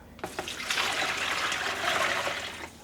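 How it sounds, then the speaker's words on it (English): Cold water pours steadily from a measuring cup into a pot for yarn dyeing, a continuous close splashing rush that lasts about two and a half seconds, with no talking. "Adding in cold water."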